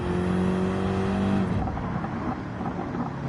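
Race car engine in Gran Turismo 7 starting up, a loud steady idle tone that breaks into a rough, growling rumble as it fires, heard alone without talk.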